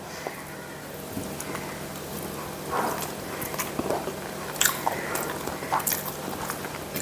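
Close, soft chewing and squishy mouth sounds as taro shoot thoran mixed with rice is eaten by hand, with wet smacks and small clicks that continue steadily over a quiet room background.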